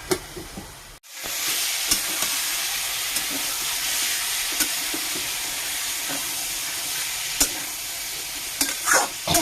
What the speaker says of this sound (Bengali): ভালো করে নাড়াচাড়া দিয়ে দিচ্ছি